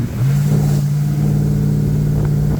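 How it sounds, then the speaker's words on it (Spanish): A Chevy car engine idling loudly and smoothly nearby, a deep steady rumble muffled through all its mufflers, with a slight rise in revs at the start. "Ahora pueden escuchar el motor"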